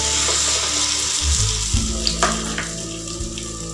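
Masala-coated bread laid into a hot pan sets off a close, steady sizzle, with a sudden burst of crackling as it hits the oil and a few light knocks afterward.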